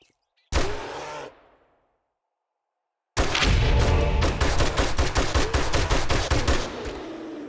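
Gunfire in the survival game 7 Days to Die as a grizzly bear is shot: one short loud burst, a pause, then a long rapid string of shots, near and loud with no talking.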